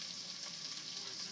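Onions, peppers, garlic and jalapeno sautéing in a pot for black bean chili give a soft, steady sizzle and hiss, close and quiet, with no pauses.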